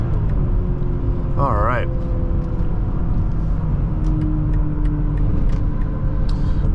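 A 2021 BMW X5 xDrive40i's inline-six engine pulls steadily with a continuous low rumble and road noise throughout, heard from inside the cabin, while someone talks over it.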